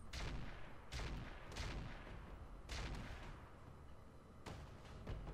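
Heavy weapons fire from battling mechs in the video game Roguetech, a string of loud booming shots spaced irregularly, each with a sharp attack and rumbling tail, no talk.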